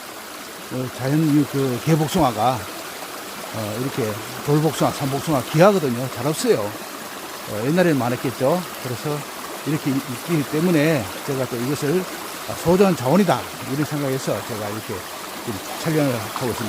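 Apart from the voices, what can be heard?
water flowing in a natural mountain valley stream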